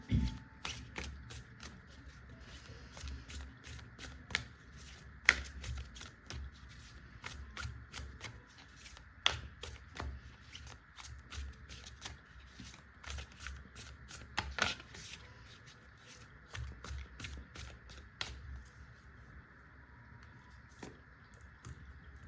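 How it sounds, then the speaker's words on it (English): Playing cards shuffled repeatedly, quick riffling bursts and soft slaps recurring in a steady rhythm at close range, fairly quiet, with no voices. "I will just shuffle again"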